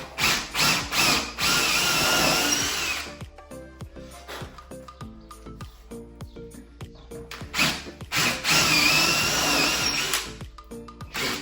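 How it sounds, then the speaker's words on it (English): A power drill with an 8mm bit whines and grinds loudly as it bores into wood, in two long bursts separated by a quieter stretch of light clicks and handling noise. "So now I'm going to do some holes in the corners and use a jigsaw. So just want to drill a bit."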